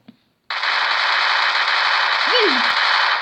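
Gunfire in the mobile battle-royale game Free Fire, a sudden sustained burst of rapid automatic fire starting after a brief silence and continuing loud and dense to the end, with a short vocal sound partway through.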